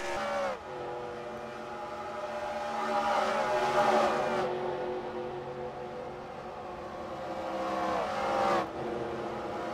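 Several NASCAR-style race cars at Talladega roar past one after another as they cross the finish line, engines swelling loud and then falling away in pitch, with no talk over them.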